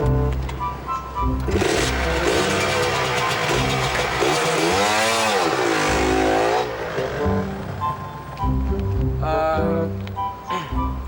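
A motorcycle is ridden and revved, its engine note rising and falling in sweeping surges, loud and continuous under a dense layer of other sound.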